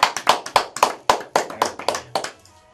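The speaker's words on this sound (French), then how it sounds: "c'est sous les applaudissements que nous vous laissons repartir" A handful of people clap hands in a sparse, uneven rhythm, about a dozen distinct close claps on a French radio set, dying away after a couple of seconds.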